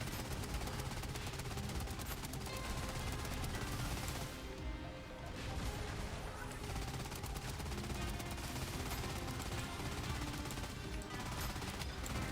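Artillery firing in the Trailmakers video game: dense, continuous bursts of booming and crackling gunfire that stay loud throughout, briefly easing midway before resuming at full intensity.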